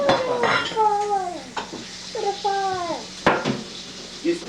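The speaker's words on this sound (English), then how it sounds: "I'm frying with butter because I couldn't find lard." Butter frying in a pan in a home kitchen, a close sizzle under scraping and stirring with a utensil, joined by brief voice-like tones.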